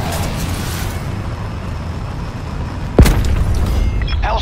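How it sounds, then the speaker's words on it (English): A Hellstorm missile strike in Black Ops 4 lands as one sudden heavy boom about three seconds in, rising out of steady low battlefield rumble and leaving a lingering roar behind it. "Transfer control of Hellstorm missile."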